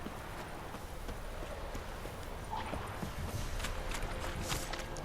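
Horse hooves clip-clop steadily in The Witcher 3 video game, a continuous rhythmic trot sitting under dense, busy background noise.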